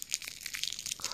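Strips of sticky sellotape are handled up close, giving a quick run of crinkly, crackling and peeling sounds with small sticky pops, soft and intimate.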